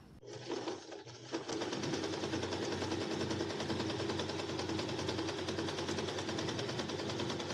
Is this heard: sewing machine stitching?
yes